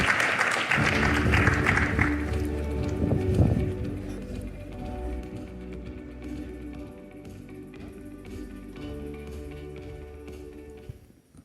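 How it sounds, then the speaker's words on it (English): An audience at a business discussion event applauds warmly, loud dense clapping at first that gradually fades as music plays underneath. "Warm round of applause, please."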